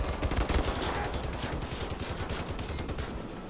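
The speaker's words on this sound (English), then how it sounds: "Who messes with the guy with the laser Gatling gun?" Rapid sustained automatic fire from a laser Gatling gun in Wolfenstein: The New Order, a dense stream of loud, closely spaced shots running steadily throughout with no pauses.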